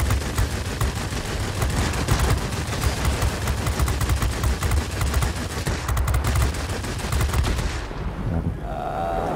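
Dense, rapid gunfire from an aircraft combat video game, loud and continuous for about eight seconds before cutting out near the end; no voices.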